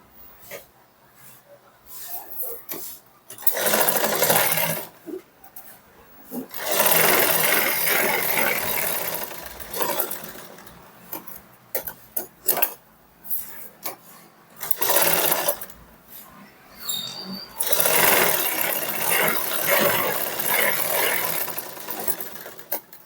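Sewing machine stitching a sleeve joint on a garment runs in several bursts of rapid, steady whirring stitches, separated by short pauses, close and clear with no talk.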